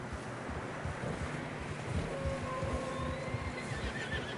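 In a snowy mountain trail scene of a video game, a horse whinnies amid a constant wash of wind and surf-like noise, with faint hoof clops underneath and no speech.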